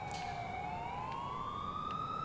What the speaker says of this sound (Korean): 앰뷸런스 소리 들려 지금?